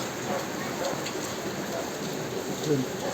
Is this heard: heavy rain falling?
yes